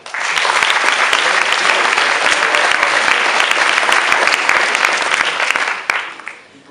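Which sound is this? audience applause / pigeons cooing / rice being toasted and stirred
audience applause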